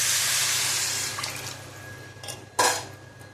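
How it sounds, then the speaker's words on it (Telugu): Water is poured into a cooking pot for bagara rice, a brief steady splashing rush that fades, followed by a short clank of the pot near the microphone. "వాటర్ అయితే వేసుకుందాం."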